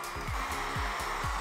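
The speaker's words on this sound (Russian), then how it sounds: "И тут нам на помощь придет строительный фен." A heat gun blowing hot air with a steady, loud whooshing roar and a faint rhythmic pulsing, close by, with no talking.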